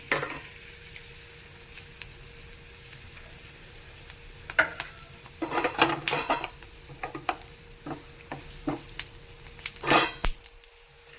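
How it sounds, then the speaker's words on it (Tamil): Four torn dried red chillies frying in hot oil for beef fry, a steady soft sizzle broken by sharp crackles and spoon clinks against the pan, with no talking. "ஆயில் சூடாகிடுச்சு வத்தல் போட்டுக்கலாம் நாலு வத்தல் பிச்சு போட்டிருக்கேன்"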